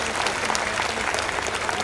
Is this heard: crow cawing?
no